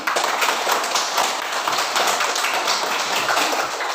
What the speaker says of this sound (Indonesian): Mari kita tepuk tangan untuk Dewi.